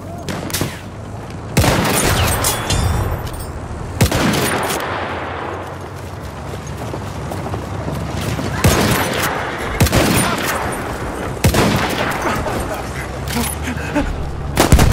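Enemy machine gun fire in the Battlefield 1 video game arrives in repeated loud bursts of rapid shots over a dense wartime din of distant explosions, with voices heard in places.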